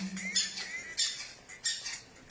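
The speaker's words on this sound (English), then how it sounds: "Listen to the bird." Bird calling outdoors, a series of about four sharp, high squawking chirps repeating at roughly half-second intervals, clear against a quiet background, with a brief low hum at the start.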